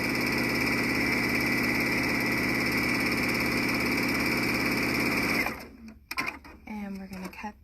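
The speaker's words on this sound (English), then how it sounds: "This is actually the machine that I have at home that I sew on" A Baby Lock home sewing machine stitches in a fast, even mechanical whir for about five seconds, then stops abruptly, leaving a few clicks and a person talking.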